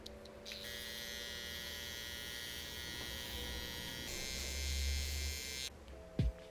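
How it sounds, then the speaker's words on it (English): A beard trimmer buzzes steadily and close while removing hair from the cheeks, a continuous electric drone that cuts off near the end with a brief thump. "I'm going to remove the hair on top of my cheeks with my trimmer"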